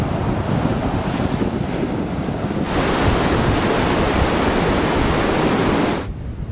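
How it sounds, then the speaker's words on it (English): Ocean surf and wind pound the open Madagascar coast, a loud continuous roar that swells into a heavier wash of breaking waves midway before easing back. "Nothing between here and Antarctica, except ocean."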